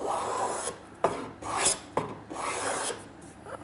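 A wooden stool part is shaped by hand with a rasp or file, making steady rough scraping strokes about one per second that are close and fairly loud, with no voices.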